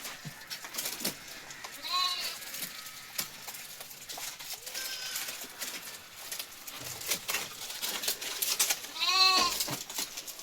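Eleven young goats, one male and ten female, bleat repeatedly at varying distances, with high wavering cries scattered over a quiet, rustling background.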